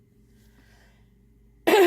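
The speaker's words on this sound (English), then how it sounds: "apologies for coughing" After near silence, a single sharp cough bursts out close to the microphone, loud and abrupt at the very end.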